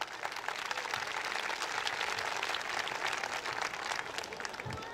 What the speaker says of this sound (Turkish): Ben öncelikle tüm çalışanlarımıza ve sponsorlarımıza da bir alkış istiyorum.